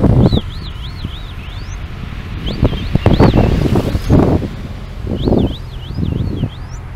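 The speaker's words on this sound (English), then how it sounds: "I can feel some decent wind coming" Gusty wind outdoors over farm fields where tractors work, buffeting the microphone in uneven low roaring bursts, while high whistling bird calls sound repeatedly above it.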